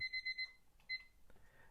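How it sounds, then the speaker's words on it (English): A kitchen timer alarm goes off with a quick run of four high electronic beeps and one more shortly after, fairly faint in a quiet room. "And there goes the timer."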